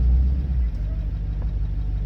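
An old dually pickup truck engine idles steadily, a low rumbling drone that stays close and constant throughout, with a faint voice briefly underneath.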